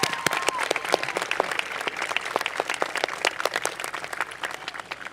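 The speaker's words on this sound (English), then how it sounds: "So we can give her a round of applause" A crowd at a high school graduation claps steadily in a dense burst of applause, held at an even level before easing slightly toward the end.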